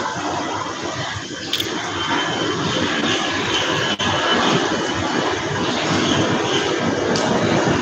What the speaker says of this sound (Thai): นี่ก็มีเครื่องบินบินผ่านตลอดนะตลอด